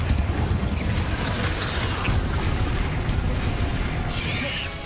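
A Confringo spell explodes in Hogwarts Legacy, a loud, rumbling blast with creaking, mechanical debris textures sustained for several seconds before fading slightly.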